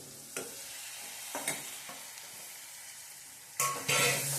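Tomatoes go into a frying chutney for Gujarati sev tameta nu shak, with a soft low sizzle in the pan, a few scattered scraping stirs, and a louder burst of sizzling near the end as they are added.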